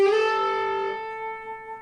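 A single electric guitar note glides upward in pitch and then rings out steadily, clean and close, fading slowly.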